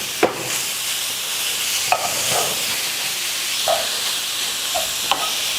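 Meat sizzling in a hot frying pan as it is stirred and broken up, a steady loud fry hiss with occasional utensil scrapes and taps against the pan, no talking.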